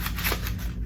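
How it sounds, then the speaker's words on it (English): Paper drawing crumpled by hand, giving a continuous close crackling and rustling texture throughout with no talk. "we're gonna take our drawing and just crumple it"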